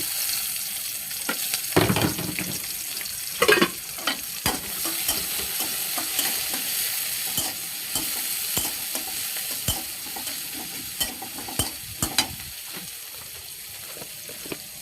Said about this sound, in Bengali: প্রথমে তেল দিয়ে দিলাম, তারপরে পেঁয়াজ, কাঁচামরিচ দিয়ে